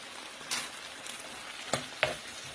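Pork orange sauté with veggies sizzles in a pan, a soft hiss broken by several short, sharp bursts of crackling as it is stirred, close by.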